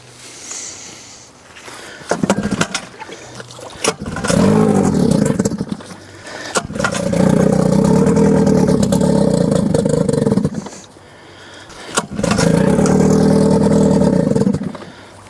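A vintage Mercury Mark 10hp outboard motor with carburetor and fuel pump trouble runs in loud, close bursts. It revs up and drops back with pauses and clatter between runs.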